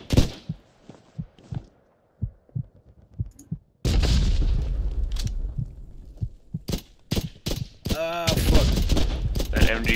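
Machine-gun fire and explosions in Hell Let Loose, a WWII shooter, with an MG42 among the guns heard: sparse sharp shots first, then loud, dense bursts of automatic fire and blasts.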